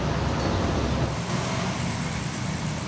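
Road traffic at a U-turn on GT Road in Gujranwala gives a loud, continuous roar of passing vehicles, a dense wash of engine and tyre noise close by with no clear separate events.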